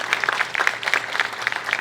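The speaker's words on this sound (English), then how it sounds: "we should clap a little bit louder for that." Audience clapping at an outdoor ribbon-cutting ceremony for a community center, a steady patter of many hands, moderately near and continuous throughout with no talking over it.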